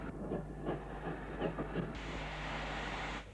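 A 1949 Hawksworth 0-6-0 pannier tank steam locomotive at Paddington gives a steady, fairly loud mechanical rumble with rhythmic chuffing beats early on, then a broad continuous hiss of steam.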